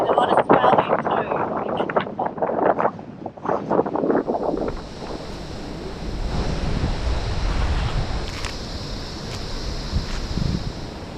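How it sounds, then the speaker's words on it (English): Strong wind buffets the microphone beside a swelling ocean on Lord Howe Island, a heavy, continuous roar of gusts and surf, loud and close, with people talking over the first few seconds. "It's so windy"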